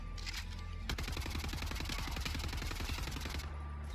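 A gunfight in Wolfenstein The New Order against an enemy with a pump shotgun erupts as rapid, loud automatic fire, a dense run of sharp shots lasting a few seconds after an opening blast.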